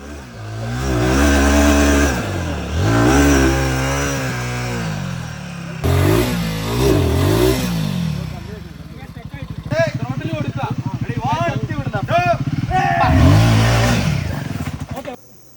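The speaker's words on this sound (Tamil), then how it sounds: "கேடிஎம் பைக்ஸ் நல்லாவே ஸ்ட்ரகிள் ஆகிட்டுருக்குங்க" KTM motorcycles rev and labour up a muddy monsoon trail, with engines rising and falling in repeated pulls and a sustained strained run near the end, under frequent talk.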